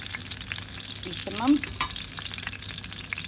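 Frozen breaded chicken schnitzel sizzles steadily in a frying pan, a close, constant crackle of hot oil with a brief clink of a utensil and a short spoken word over it.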